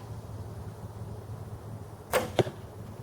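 A vintage Bear Kodiak Magnum bow is shot at a deer target on a range, a sharp string release followed by a quick second thwack, standing out against quiet outdoor background with no speech.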